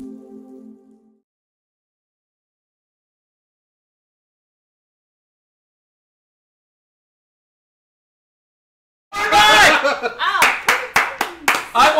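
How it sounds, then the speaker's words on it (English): Audience applause at a televised debate show on atheism versus religion bursts in after a long stretch of silence, a loud, close wash of clapping with sharp separate claps near the end, preceded by a brief faint voice. "I want to give it applause to Monica"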